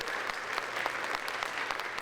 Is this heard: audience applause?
yes